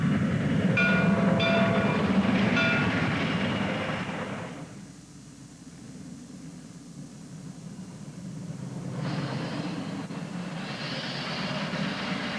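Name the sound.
caboose hop train leaving Southern Railway Murphy branch at Topton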